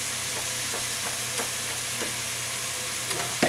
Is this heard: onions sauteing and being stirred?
yes